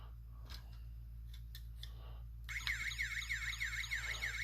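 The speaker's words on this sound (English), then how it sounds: "Again with the same alarm and flashing lights." A toy ambulance van sounds its electronic siren alarm: a loud, warbling high-pitched wail that starts abruptly partway through and repeats in steady cycles, preceded by a few faint clicks and handling noises.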